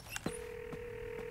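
A cartoon phone keypad dials a number in a few quick tones: two short beeps, then a steady tone held under two more soft presses, clear and alone with no talking.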